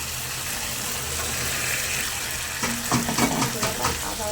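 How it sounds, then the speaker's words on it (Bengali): Boiled chickpeas go into a pan of spiced potatoes frying in oil, a steady sizzle that sharpens and turns busier with stirring and clatter partway through, close and moderately loud. "এই পর্যায়ে আমি দিয়ে দেবো সিদ্ধ করে রাখা ছোলাগুলো।"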